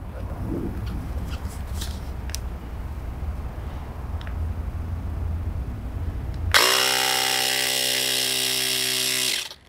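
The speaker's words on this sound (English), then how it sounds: "With new tubes, I do like to add a little bit of air to them to try to just give them a little bit of shape" A small electric air pump or compressor inflates a new scooter inner tube, starting abruptly partway through with a loud, steady whir and hum that runs for about three seconds after quiet workshop background.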